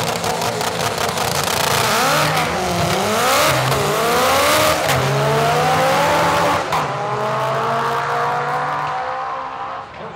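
A Honda Civic makes a drag racing pass at Santa Pod Raceway with a loud, close engine howl that climbs in pitch through several gear changes, then gradually fades as the car pulls away.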